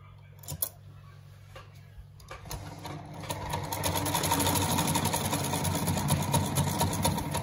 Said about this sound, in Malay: turunkan penekan jahitan dan kita pusing sekejap sikit roda imbang. Jahit sampai hujung.